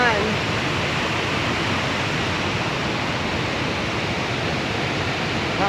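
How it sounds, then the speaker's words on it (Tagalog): Hidden waterfall in Luisiana, Laguna, a constant, broad rushing roar of falling water, dense and unbroken throughout. "This is the hidden waterfalls of Luciana, Laguna."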